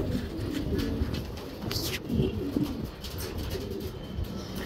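Young racing pigeons in a loft coo repeatedly at close range in a soft, throaty, bubbling rhythm, with a few brief chirps among them.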